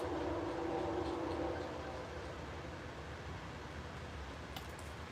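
A train passes by as a steady broad rumbling roar that eases slightly partway through, continuous and fairly distant, with no talk.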